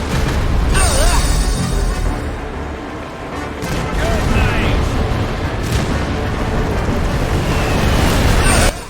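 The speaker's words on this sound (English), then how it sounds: "Cannons!" Ship cannons fire in the naval video game Scurry The Decks, with several loud, sharp booms spaced a few seconds apart over a dense layer of game noise.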